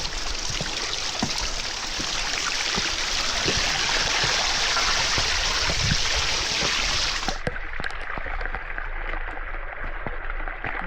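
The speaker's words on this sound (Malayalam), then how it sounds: "നല്ല മഴയാണ്" Heavy monsoon rain pours at Harihar Fort in Maharashtra, a dense, loud and steady hiss of falling water that continues without a break and turns a little duller near the end, with no voices heard.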